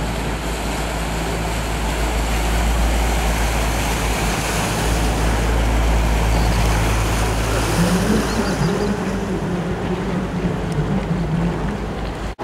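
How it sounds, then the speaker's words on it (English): A boat on a canal in Bruges passes with a constant low engine rumble and water wash, blended with wind noise against the microphone throughout. "That's a boat on the canal."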